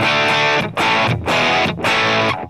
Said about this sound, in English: Right, so this is more of like a treble booster sound.